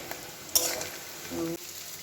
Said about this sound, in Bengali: পেঁয়াজের বেরেস্তাগুলো ভাজা চলছে, আর একটু লাল লাল হবে।